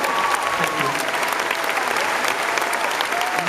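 A live audience at a concert gives a loud, dense burst of applause, the clapping sustained and close throughout, with a few faint voices mixed into the crowd.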